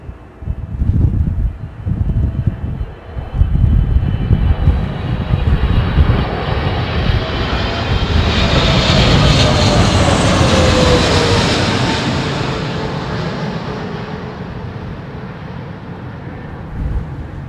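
A jet airliner's engines roar loudly and steadily while landing at London Heathrow in windy weather, the whine rising in pitch and swelling before slowly easing off, with some wind rumble.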